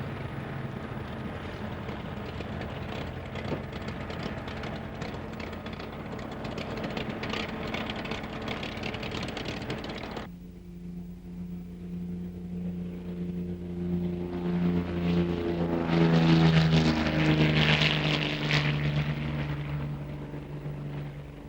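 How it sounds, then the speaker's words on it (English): An RAF Bassett light aircraft's engine drones steadily for about ten seconds with wind rush, then a smoother engine hum with a rising tone swells louder toward the end, with no talking. "The Bassett light aircraft used by RAF personnel when they fly into Jersey"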